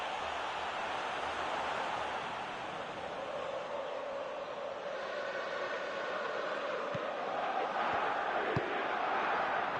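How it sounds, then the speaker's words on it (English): A stadium crowd in the eFootball PES 2021 football game gives a broad, steady roar of applause and cheering, a continuous dense wash of noise with no talk over it. "at least the crowd are appreciative of his efforts"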